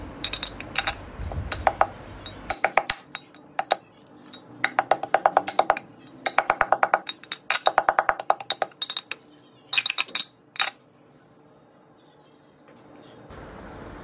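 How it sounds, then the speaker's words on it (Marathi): Dry fruits are crushed by hand in a stone mortar and pestle, giving rapid clusters of sharp knocking taps in rhythmic bursts, close and clear, with pauses between runs and no voices. "मी अशाच प्रकारे खलबत्त्यामध्ये ड्रायफ्रूट बारीक करते"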